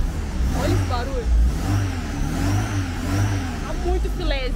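A Fiat 147 engine fitted in a Fiat Fiorino runs with a steady, even low rumble and mild revving, close by, while people talk over it.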